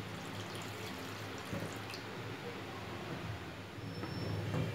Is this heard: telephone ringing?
no